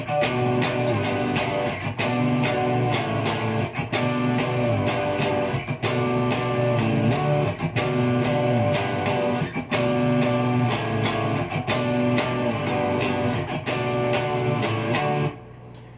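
A guitar plays a slow, steady picked pattern with sustained chord tones, continuous and fairly loud, ending abruptly near the close.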